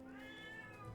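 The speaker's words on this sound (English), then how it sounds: "My cat is meowing." A pet cat meows once, a faint drawn-out call with a rising then falling pitch lasting about a second, heard alone and at a distance.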